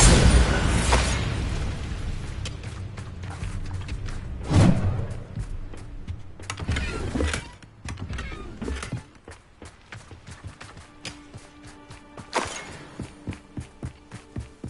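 Spell blasts in the Hogwarts Legacy game: a series of heavy booming impacts and thuds with crashing debris, loud and near, followed by a quicker run of lighter repeated knocks, with no talk.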